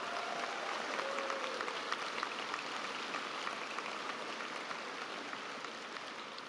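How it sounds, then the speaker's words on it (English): Graduation audience applauding at a high school commencement ceremony, a dense, steady patter of many hands clapping at moderate distance, continuous and even throughout with no talk over it. "Graduates, please join me in a round of applause for our mothers and grandmothers who are with us today."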